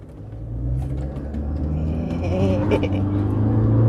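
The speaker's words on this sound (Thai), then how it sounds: "ทางตรงครับปักกาเร่พร้อมแล้วเริ่มได้เลยนะครับ" Toyota bZ4X AWD electric car, 218 hp, accelerating hard at full throttle on a straight road, heard from inside the cabin as a steady rising whir and low road rumble that builds in loudness, with voices talking over it.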